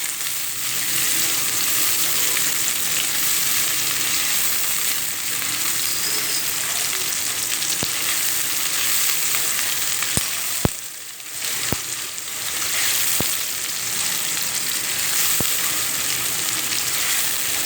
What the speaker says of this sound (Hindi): ये 2 दिन मैंने प्याज लिए, इनको मैंने छोटा छोटा काट लिया। इसको भी ब्राउन कर देंगे।